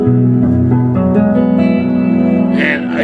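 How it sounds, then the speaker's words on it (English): An electric guitar plays through a 22 watt all-tube amp and a pedal board adding reverb, giving a warm sustained chord tone with lingering echo, loud and close with no talking. "I'm running through my pedal board here, which is adding some reverb and things."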